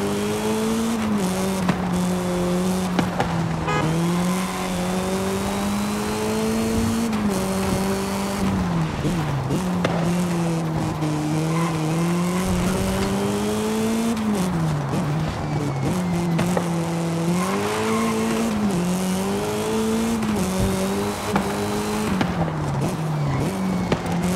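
Monster trucks such as Toro Loco and El Campeón race in Forza Horizon 5, a loud continuous engine roar that rises and falls with gear changes, with occasional tire squeals and skids over the steady drone.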